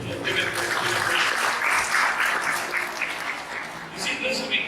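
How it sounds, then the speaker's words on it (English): A church congregation at a Sunday service claps in praise, a dense, steady wash of hands filling the room, with voices mixed in beneath it. "Clap your hands up. Give it praise."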